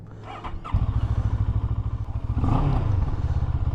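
A 2022 CFMoto 650 Adventura motorcycle engine starts and settles into a loud, throbbing idle close by, with a brief rev partway through.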